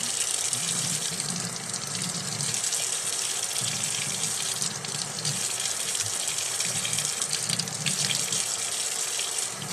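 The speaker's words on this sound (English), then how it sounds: "you can hear the water now." Tap water runs steadily into a sink close by, a continuous splashing gush with small bubbling fluctuations, no voices.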